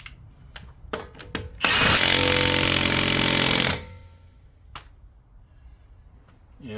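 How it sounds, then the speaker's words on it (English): A Milwaukee 2864-20 high-torque 3/4 inch impact wrench tightening a bolt: one loud, continuous hammering burst of about two seconds, preceded and followed by scattered clicks and handling knocks. "So let me tighten this bolt back up."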